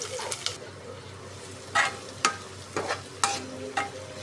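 Chopped onion added to hot oil with cumin seeds, a steady low sizzle of frying with several sharp clinks and scrapes of a spoon stirring the pan, close by, no talking.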